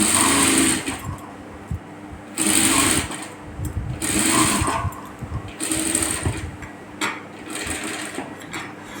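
Sewing machine stitching piping around a blouse neckline in several rapid bursts separated by short pauses, close and fairly loud, with faint movement between runs.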